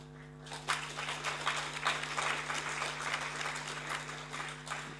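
At the State of the European Union 2013 conference, the audience applauds after a speech. The clapping is steady and moderately loud over a low electrical hum, starting abruptly after a brief quiet moment.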